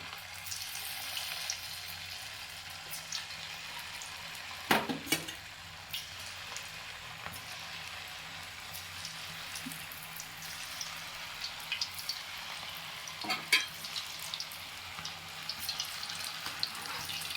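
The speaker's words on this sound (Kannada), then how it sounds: "ಇದು ಎಣ್ಣೆಲಿ ಚೆನ್ನಾಗಿ ಡ್ರೈ ಆಗಲಿ" Cauliflower (gobi) pieces frying in hot oil make a steady, soft sizzle with gentle bubbling that continues throughout, broken by a couple of sharp clinks.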